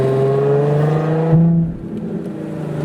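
A Nissan 350Z with its V6 engine drives with a steady, loud engine drone that swells in a brief rev midway, then settles back to a lower hum.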